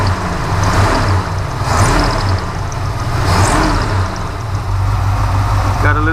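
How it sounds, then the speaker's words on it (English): A car engine fitted with a cheap Amazon knock-off Edelbrock carburetor idles steadily and close by, with a smooth low rumble and a faint belt squeak over it. "but it's idling good."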